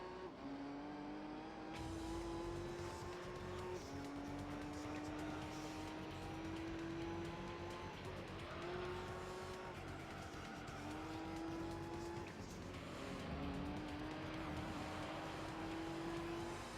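Race cars in Gran Turismo 3 A-Spec whine through the gears, engine pitch climbing and dropping with each shift, with some tire squeal, all fairly quiet and continuous.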